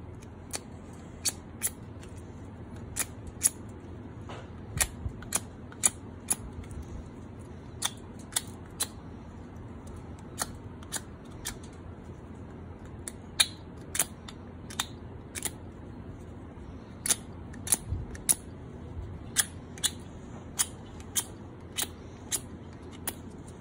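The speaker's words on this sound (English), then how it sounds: "Cut them out, pull them out of there, clean them up with a pocket knife." Plastic baffles for hydroponic pipes are cut out, giving a long series of crisp, irregular snipping clicks over a low steady background hum, close and with no talk.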